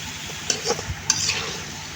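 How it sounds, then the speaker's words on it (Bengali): A curry of banana flower, papaya, jackfruit seeds and dried fish is stirred in a pan, with a steady sizzle and a few sharp scrapes and clinks of the spoon close by. "তো এখন আমি এগুলা একটু নেড়ে ছেড়ে দেবো বন্ধুরা, নেড়ে ছেড়ে দিয়ে তো এভাবে এগুলো আমি ভালো করে কষিয়ে নেব।"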